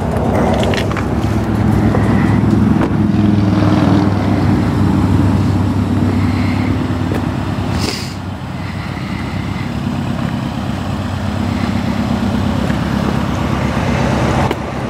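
A parked 2016 Subaru WRX STi idles steadily at close range, its low engine rumble continuous, with a brief slight drop in level partway through.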